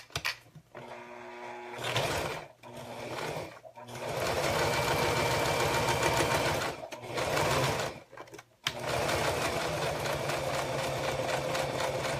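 A sewing machine stitches a zipper onto vinyl in steady mechanical runs, stopping and restarting several times with short pauses between bursts of needle chatter.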